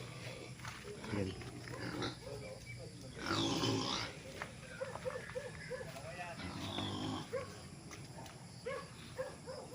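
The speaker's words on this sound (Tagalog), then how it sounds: "Ngayon na nakakulong sa piggery mga baboy ramo." Wild boars confined in a former piggery on a farm lot in Pagsanjan, Laguna, grunt and squeal in short repeated bursts at moderate distance, mixed with voices talking nearby.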